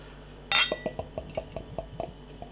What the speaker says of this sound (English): Nice glug on the pour.